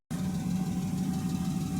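A damaged Dodge Durango engine runs steadily up close, a continuous low rumble with a faint tonal whine and rough, uneven texture throughout, no voices.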